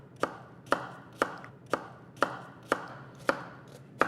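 A knife dices an onion into a small dice using the cross-cut method: about eight crisp, evenly spaced chops land close by in a steady rhythm, with no voices.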